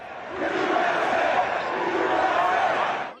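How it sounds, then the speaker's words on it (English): A stadium crowd at a Pittsburgh Steelers football game cheers and roars in a broad, sustained wash of noise that swells and holds for about three seconds before fading. "he pumped his fist to cheers from the crowd"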